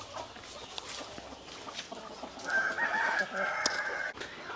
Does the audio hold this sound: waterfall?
no